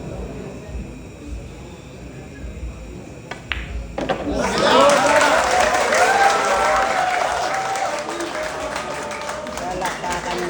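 Crowd applause breaks out after the final ball of a billiards match in Surigao, loud and sustained, with clapping filling the hall and talk over it.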